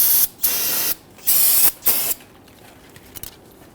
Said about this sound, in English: Go ahead and spray this down again with your solvent.